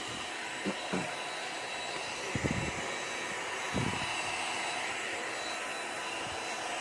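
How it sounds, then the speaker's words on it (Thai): An electric air pump inflates a rubber boat with a steady, loud, whooshing drone, broken now and then by a few faint knocks and thumps, with no talking. "ตอนนี้สูบเข้าไปก่อน ก็เริ่มพองแล้วนะครับ"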